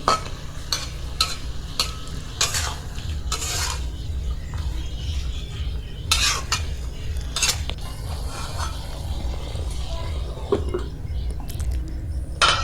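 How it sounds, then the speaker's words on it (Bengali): A spoon scrapes and stirs a stem vegetable chorchori in a pan, with repeated clattering strokes against the metal over a steady low sizzle, close and continuous without talk. "এবার আবার একটু নাড়িয়ে চাড়িয়ে ঢাকা দিয়ে দেব"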